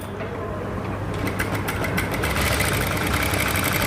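A sewing machine runs steadily while stitching the neck and shoulder seam of a garment, a loud, continuous motor whir with rapid rhythmic ticking from the needle.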